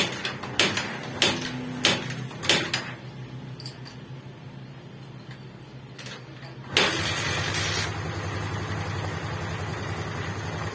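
A Barako 175 motorcycle engine, just repaired, cranks through several short starter bursts, then fires and settles into a steady, loud idle close by.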